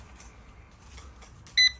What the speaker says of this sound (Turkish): bip sesini duydunuz. Bip sesi geldi.